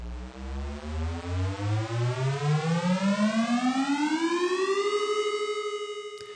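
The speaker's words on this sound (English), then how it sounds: "Now these play an air raid siren type sound effect, irrespective of your do not disturb status." A rising air raid siren tone from the Carrot Weather app, climbing steadily in pitch and pulsing loudly throughout with no talk.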